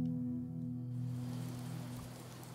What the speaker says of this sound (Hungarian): És esik az eső.